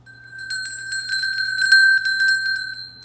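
A small metal bell rung repeatedly to clear and cleanse a home altar, bright sustained ringing tones with quick repeated strikes building in the middle, close and alone over a low steady hum.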